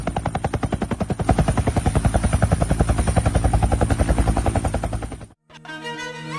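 Giant person-carrying drone flying on its propellers, a loud rapid chopping whir pulsing evenly for about five seconds before cutting off abruptly, followed by a different tonal sound.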